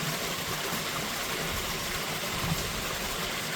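Clear mountain valley stream with a small waterfall in a clean gorge behind a village on Hwaaksan, a continuous even rush of flowing water, close and steady with no pauses.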